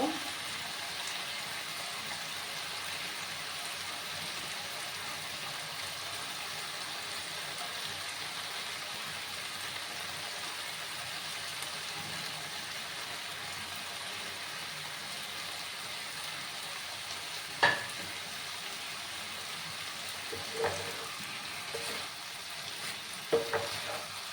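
Thor curry with small fish stirred and mixed in a pan, a steady hiss of frying with a few sharp scrapes of the spoon near the end, no talking.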